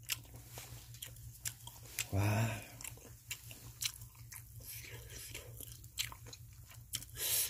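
Crispy grilled freshwater fish caught and cooked outdoors on an island is bitten and chewed close to the microphone: one loud crunchy bite followed by repeated crisp crunches and moist chewing, with a brief exclamation and a steady low hum beneath.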